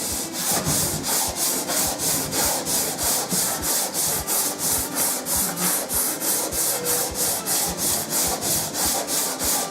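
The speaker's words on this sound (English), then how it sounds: "Once I've done the 60 grit, I'll flip it over, do 100, and then down to 240, and then that will be it done. It will all be sanded." Sandpaper is worked by hand across the wooden body of a cheap electric guitar, going from 60 grit toward finer grades, in steady back-and-forth strokes at about three per second, close and loud, with no voices.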